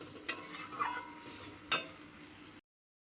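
Masala being stirred and fried with a splash of water in a pan while cooking egg chicken chow mein, a soft continuous sizzle broken by two sharp spoon scrapes against the pan.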